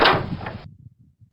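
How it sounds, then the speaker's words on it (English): A door swings open, starting with a sharp loud burst of noise that cuts off abruptly, followed by a few faint low thuds and knocks that fade away. "Open the door."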